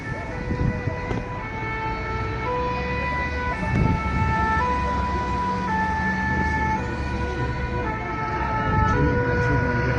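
An ambulance siren heads away through the streets of Nice, France, its wailing tones rising and falling continuously over street rumble and traffic, with a few faint voices in the background.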